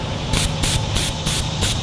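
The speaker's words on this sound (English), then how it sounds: "I'm going to spray this straight on the Dollar Tree foam." An airbrush, a quick-change airbrush kit, sprays paint onto Dollar Tree foam in a steady airy hiss, with brighter bursts pulsing roughly every third of a second as the trigger is worked.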